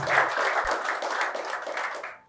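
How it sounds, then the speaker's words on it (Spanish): A church congregation applauds together in a short, dense burst of many hands clapping that holds steady and then fades out, with no talking. "Demos un aplauso al Señor por el sacrificio que hizo por nosotros."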